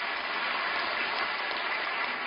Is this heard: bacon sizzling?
no